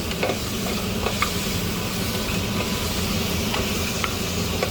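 Mutton pieces fry in a pan with a steady, close, continuous sizzle and crackle. Occasional scrapes of stirring break through the hiss.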